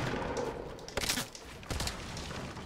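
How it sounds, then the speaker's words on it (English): Video game gunfire bursts out in a firefight, with a sharp volley near the one-second mark and another around 1.7 seconds over constant background noise from the game. "Now, why are you shooting at me, bro?"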